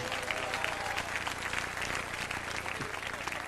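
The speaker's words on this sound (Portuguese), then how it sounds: "Aplauda ao Senhor com alegria nesta noite" A church congregation claps during an evening service, producing a continuous, evenly textured roar of many hands that stays quiet and slightly distant, with faint voices mixed under the clapping.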